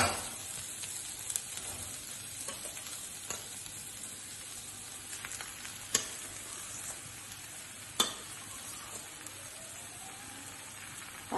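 Peeled, mashed potatoes go into a frying pan for masala dosa filling, with a soft continuous sizzle and a few sharp clacks of the spoon as it stirs.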